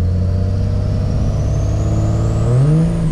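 A 3rd gen Cummins diesel pickup pulls hard from a standstill, its engine droning loud and steady as the pitch climbs through a gear, with a rising turbo whine above.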